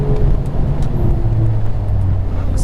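A 2016 BMW M2 on a race track braking hard, its engine note and road roar steady and close throughout, with a slight tonal hum shifting as the car slows.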